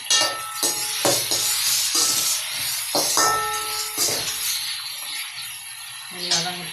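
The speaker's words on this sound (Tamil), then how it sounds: "இந்த தக்காளியை அதில் சேர்த்துப்போம்." Tomatoes added to a pan and sautéing for a Sirkali-style chicken curry, giving a steady close sizzle and hiss with scattered clinks and stirring scrapes, while a voice talks over it throughout.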